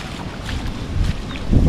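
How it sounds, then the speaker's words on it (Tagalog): Wind roars against the microphone while sea waves splash and slosh around a small boat, with bursts of louder surging near the end. "laki naman ng alon sa dagat"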